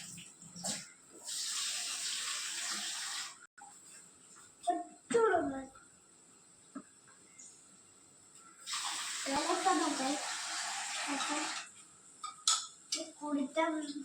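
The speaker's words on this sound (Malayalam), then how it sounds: "ഇനി കുറച്ച് തണുത്ത വെള്ളം" Cold water poured into lime juice makes two longer hissing, splashing bursts separated by quieter gaps, with clinks and people talking in between.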